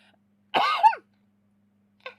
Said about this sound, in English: I've got bouts of bad cough going around